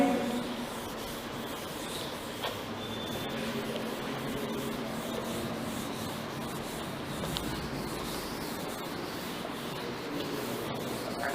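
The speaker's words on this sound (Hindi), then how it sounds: "हम हमारा डायग्राम एक बार रब करके हम वापस बनाएंगे" Rubbing to erase a diagram from a board during a 12th-grade science class: steady, continuous scrubbing friction, close and moderately loud, with no talking.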